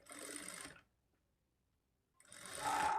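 A sewing machine stitches a blouse lining in two close, fast whirring runs separated by a short silent pause, the second run swelling louder.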